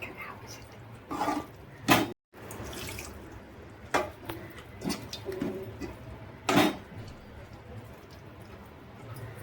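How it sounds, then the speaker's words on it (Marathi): Several short splashes of water poured into a metal pot of cooking prawns, with pauses between, close up over faint background hum. "याच्यामध्ये मम्मीने अजून थोडंसं ॲडिशनली पाणी टाकलेलं आहे"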